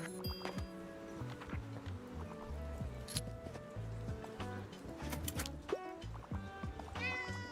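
Cat meowing in the video game Tiny Bookshop, a short mew set amid busy background game music with chiming tones.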